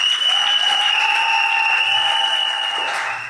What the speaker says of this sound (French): je souhaite pour les encourager, pour les booster, qu'on applaudisse à nouveau très fort pour eux.